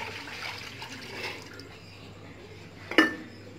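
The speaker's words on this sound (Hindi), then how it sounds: "सबसे पहले हम लस्सी को डालेंगे अंदर" Lassi poured into a mixing bowl for Punjabi kadhi pakora, a soft, quiet liquid pour with a brief clink near the end.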